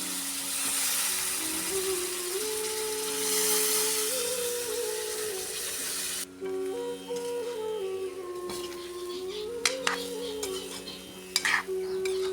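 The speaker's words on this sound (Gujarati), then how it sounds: "હવે આપણા સમારેલા બટાકા, ફુલેવાર એમાં નાખી સારી રીતે મિક્સ કરી લઈએ." Chopped potatoes and cauliflower being stirred in a pan for a cooking dish, soft scraping and gentle sizzling continuing steadily throughout, with no voices.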